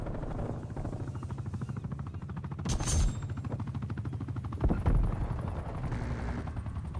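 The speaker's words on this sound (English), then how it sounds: "Hostile attack helicopter inbound." In the video game Black Ops Cold War, an attack helicopter drones steadily with rapid rotor chop while loud bursts of gunfire break through twice, all continuous and dense without speech.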